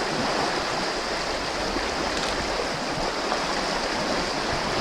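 Water tumbles and rushes steadily through a nearby stream, a continuous even hiss with no voices.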